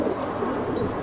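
Dark-coloured pigeons kept in a loft, a soft low cooing murmur running steadily through the second, close and moderately loud with faint chirps above.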